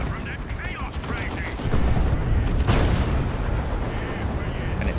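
A tank firing in a Warhammer 40k: Dawn of War 2 3v3 battle, with loud booming shots and rattling bursts of gunfire close up, while a commentator talks over the action.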